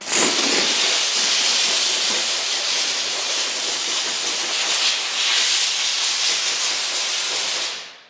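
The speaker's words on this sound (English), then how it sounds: "Without any cleaning product, just letting the steamer do the work." A McCulloch MC1385 steam cleaner blasts a steady, loud hiss of steam for about eight seconds, continuous and close, with no cleaning product used and no talking, ending abruptly as the trigger is released.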